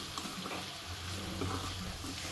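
Pumpkin stew with salt being stirred in a pot, a soft, faint churning and low bubbling that continues steadily for a couple of seconds with no voices.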